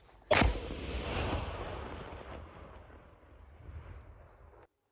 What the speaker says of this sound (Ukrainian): Боєприпас знищили на місці контрольованим підривом.